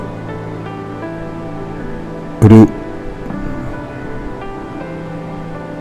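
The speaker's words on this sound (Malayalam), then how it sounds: "വെള്ളം വീഴുന്നുണ്ട്" Water cascading over rock ledges at Kozhippara waterfall, a long multi-tiered fall, gives a steady rushing wash; a voice breaks in once with a brief loud word, and faint talk follows.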